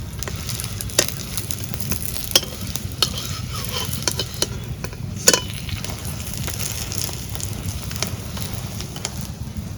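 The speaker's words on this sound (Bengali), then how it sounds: "আর আমরা পাতার বড়া এইভাবে ভাজি" Ash gourd leaf fritters fry crisply in hot oil, a steady close sizzle and crackle with occasional sharp pops and stirring clicks, no voices.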